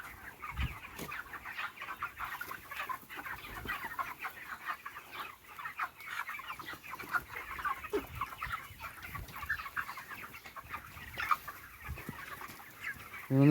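Broiler chickens, 33 days old, cluck constantly in a crowded poultry farm shed in Jalpaiguri, a busy overlapping chorus of short calls at moderate distance without talk.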